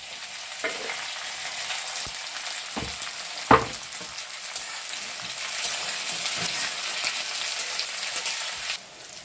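Onions and tomatoes fry in hot oil with dried chillies and whole garam masala for a mutton-style jackfruit (echor) kalia, giving a steady close sizzle broken by a few sharp spits and stirring knocks.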